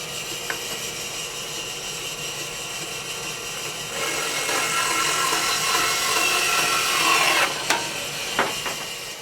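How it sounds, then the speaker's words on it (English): A bandsaw trims the ends off a round wooden garden dibble. It makes a steady grinding rasp that grows louder halfway through, with a couple of sharp clicks near the end. "nip the ends off on the bandsaw"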